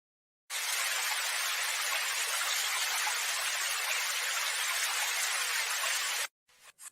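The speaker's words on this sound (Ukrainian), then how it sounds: "Так, це звуки дощу," Rain falls as a steady, dense hiss that starts abruptly, holds evenly for several seconds at moderate loudness, then cuts off, followed by a few faint clicks.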